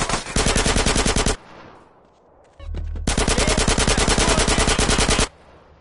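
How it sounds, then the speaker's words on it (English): Automatic gunfire in GTA San Andreas Definitive Edition rattles in two long, loud bursts separated by a short lull with a low thud, all close and without talk. "I shot that guy point blank"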